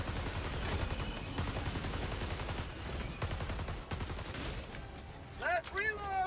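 Rapid automatic gunfire in Helldivers 2, the co-op shooter against Automatons, rattling steadily for several seconds as a dense burst of shots, then breaking off near the end as a voice speaks briefly.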